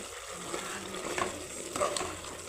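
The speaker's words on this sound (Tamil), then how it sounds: "இப்போ நம்ம அரைச்ச விழுதை சேர்த்து 2 கிண்டி கிண்டிக்கலாம்." Ground spice paste being stirred into chicken gravy frying in a pan, a soft, steady sizzle broken by a couple of brief scraping stirs, quiet and close, with no talking.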